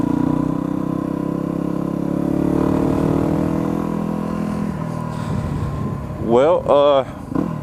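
A motorcycle ridden on the road in cold weather gives a steady engine drone mixed with wind rush. It holds a fairly even level throughout, and a voice briefly rises over it near the end.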